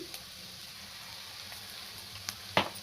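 Potato palya with ginger and turmeric frying in a pan, a faint steady sizzle with a couple of sharp clicks toward the end.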